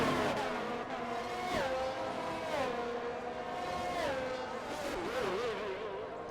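Race cars in a racing video game swing through a chicane at Miami, several engines droning and revving together with shifting pitch as they brake and accelerate, a continuous close, moderately loud roar with faint tire scrubbing.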